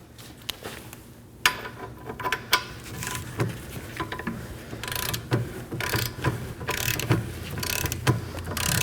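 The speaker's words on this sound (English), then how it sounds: "And now this one, we're gonna torque it to 115 foot-pounds." A torque wrench tightens a rear upper control arm bolt on a 2011-2016 Kia Optima with a repeated ratcheting click, steady and close, each stroke a sharp tick over a faint hum.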